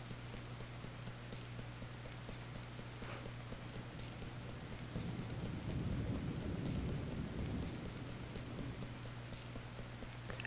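Steady rain and a low rumble of thunder in a video game mission, a constant hiss with a swelling roll of thunder midway, no voices.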